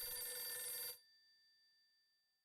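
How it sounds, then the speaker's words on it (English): A telephone bell rings loudly for about a second with a bright, sustained metallic tone, then cuts off, leaving a faint lingering hum before a brief sound at the very end. "The phone's ringing."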